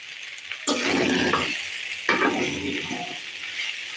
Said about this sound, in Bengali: বাকি মশলাগুলো দিয়ে দিলাম